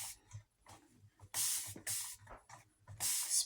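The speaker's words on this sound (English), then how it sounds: "spray it a couple of times." Several quick hissing spritzes of tea from a spray bottle onto hair, close by, in an irregular rhythm with short pauses between bursts.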